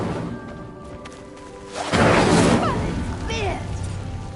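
A fire spell ignites a pyre in a magic video game: quiet ambience gives way to a sudden whooshing burst of flame that roars for about a second, then fades into crackling while a voice talks.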